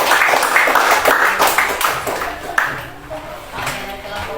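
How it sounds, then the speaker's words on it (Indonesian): A classroom of students in Merauke clapping together after a group presentation, a burst of brisk, loud applause that thins out and fades toward the end, with voices mixed in. "Oke, tepuk tangan."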